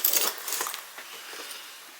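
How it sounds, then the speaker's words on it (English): Car keys jangle and clink inside a key pouch, a quick bright metallic rattle that fades over about two seconds, close and alone. "I have my actual key pouch with my car keys."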